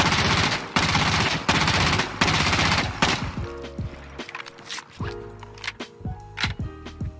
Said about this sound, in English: we'll just take a few rounds here to burst fire with the MP7